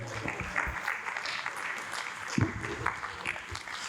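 Applause from a conference audience honoring a reverend, a steady wash of clapping with louder peaks, mixed with some voices.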